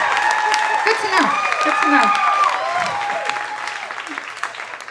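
An audience gives a round of applause at a comedy set, the clapping moderate and steady, with voices and laughter mixed in over it.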